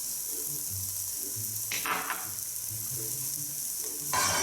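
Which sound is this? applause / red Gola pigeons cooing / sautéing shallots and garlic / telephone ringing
sautéing shallots and garlic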